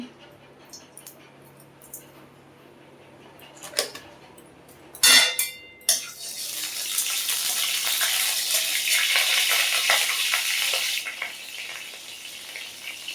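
Panch phoron spices dropped into hot oil in a pan: after a few clinks and a sharp knock, a loud sustained sizzle and crackle erupts and holds steady to the end.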